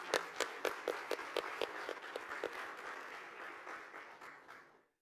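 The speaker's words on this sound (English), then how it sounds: "Please give him a round of applause." Applause for a minister at an investors' meeting hall: a few loud, distinct claps lead into a dense round of audience clapping that gradually thins and fades out.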